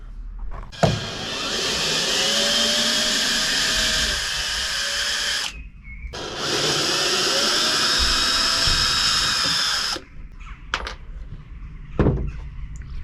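A power driver removing screws from a Peugeot Expert van panel whines loudly in two long sustained bursts separated by a short pause, followed by a few brief clicks and taps, with no talking.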